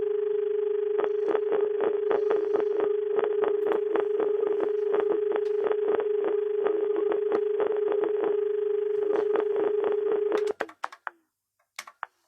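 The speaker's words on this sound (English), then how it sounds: "Dialing our guest and let's keep our fingers crossed" A telephone dials out to a radio show guest over a steady dial tone, with a rapid run of short clicks and tones repeating for about ten seconds before cutting off into a few sharp clicks.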